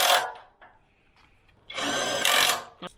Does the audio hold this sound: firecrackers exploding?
no